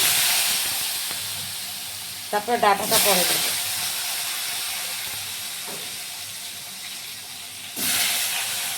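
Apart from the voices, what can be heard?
potatoes sizzling while frying in a pan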